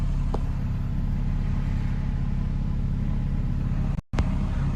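Honda Civic car driving along a street, its engine a steady low rumble close by, with a brief drop-out near the end and no talk over it.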